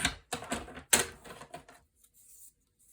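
Paper for a Stamperia Alice in Wonderland mini album is trimmed on a cutter in a series of close, crisp cutting and sliding clicks, busy at first and then thinning out to a couple of faint taps.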